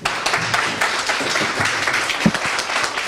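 An audience at a debate event claps and cheers for a speaker, a dense, loud, continuous wash of applause filling the whole stretch with no voice on top.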